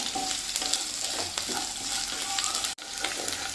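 Garlic stirred and sautéed in a pan while cooking garlic chicken, a soft steady sizzle with faint scraping stirs, one brief dropout near the end, quiet and without voices.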